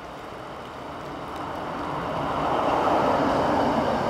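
Locomotive number 630 hauling the 09:26 train from Davosplatz to Landquart on a Swiss line, a steady rumbling roll that grows louder as it nears, with no voices.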